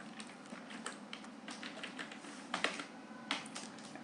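Quick keystrokes on a computer keyboard as a SQL command to create a database is typed, coming in irregular bursts of clicks with a few louder taps, close up, with no talk.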